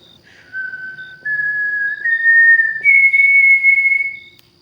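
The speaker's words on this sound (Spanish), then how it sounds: "El silbido volvió a sonar más cerca." Eerie, drawn-out whistle from a horror tale set on a misty road, sliding up in pitch through several sustained steps over about four seconds, clear and alone with no voices.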